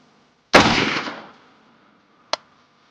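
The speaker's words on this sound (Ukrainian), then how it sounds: "І третій постріл." One loud assault rifle shot rings out close by while zeroing on a target, its sharp crack trailing off into a fading echo, followed by a faint metallic ping.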